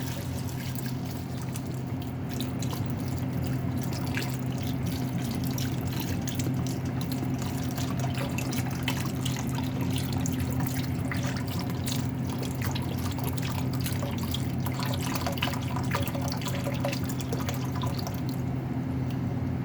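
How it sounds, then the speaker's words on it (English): Beef broth pouring steadily into a pot of albondigas soup, a continuous close liquid splashing and trickling that runs unbroken for about twenty seconds over a low kitchen hum. "Then I add a thing of beef broth. So just put it all in there."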